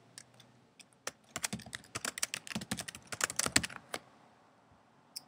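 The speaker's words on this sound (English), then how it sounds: "You can also add things into it by clicking on a day and then typing in some information." Someone types on a computer keyboard up close, filling in planner details: a few scattered taps, then a quick, irregular burst of clicks that tapers off, with no talking.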